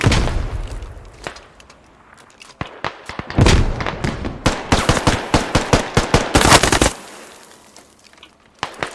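Machine gun fire from an emplaced MG in the video game Squad, a rapid string of loud bursts and single shots with thuds, growing dense in the middle before cutting off, then quieter pauses.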